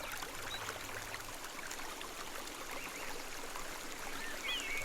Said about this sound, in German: dass auch das leisliche Glucksen und Gurgeln und Giggeln vom Wasser eigentlich eine Melodie ist